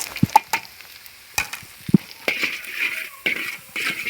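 Semolina frying in desi ghee as a spoon stirs it, with intermittent scraping and clinking strokes against the pan over a faint sizzle.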